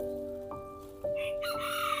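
Bantam chickens cluck and crow close by, with a couple of sharp calls rising over a steady background hum.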